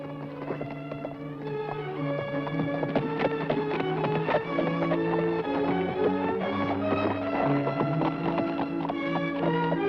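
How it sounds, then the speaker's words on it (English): A riderless horse gallops in a steady run of clip-clop hoofbeats, close and fairly loud, with a musical score playing underneath throughout. "Horse without a rider."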